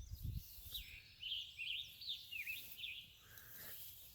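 Birds sing and chirp outdoors on rural homestead land, faint and distant. The calls form a light, wavering chorus over a soft low rumble, and no one speaks.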